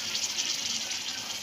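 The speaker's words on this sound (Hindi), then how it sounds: "पानी डाल दिया।" About two litres of water poured into a cooking pot of beef nihari make a steady, even rushing gush that runs without break, with no talking.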